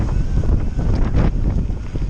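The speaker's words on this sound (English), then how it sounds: "into a wind, as you can hear." Strong wind roars across the microphone while riding a Diamondback Corax 2.0 bicycle into a headwind at about 20 mph, a loud continuous buffeting rumble with no talking.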